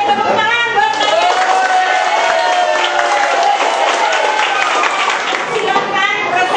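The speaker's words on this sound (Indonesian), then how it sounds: "Tepuk tangan buat kalian." Students applauding in a classroom at the end of an activity, a loud dense wash of clapping mixed with chatter and cheering voices throughout.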